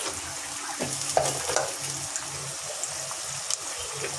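Ginger frying in a pan with oil while cooking, a steady close sizzle with faint clinks and scrapes and no voices.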